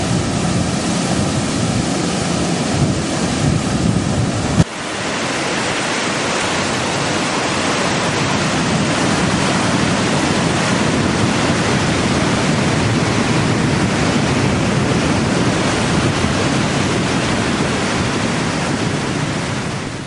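Wind buffeting across the beach at Seaside and Panama City Beach, Florida, a loud steady roar of rushing air with surf wash underneath, one brief dip partway through.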